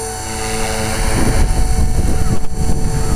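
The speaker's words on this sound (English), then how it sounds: "Takes about 15 seconds to wind up to maximum speed." A 450-size electric RC helicopter with a smooth slow-start ESC, its motor and rotor spinning up toward full speed, a steady loud whirring drone that swells slightly and holds, with no voices.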